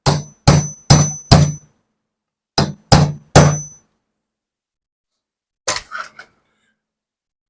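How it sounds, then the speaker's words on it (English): Sharp metallic hammer taps strike HW50s air rifle parts, first four quick ringing blows in a row, then three more after a pause, and a final lighter cluster of taps, close and loud. "Now I'm going to tap them with the unsafe hammer."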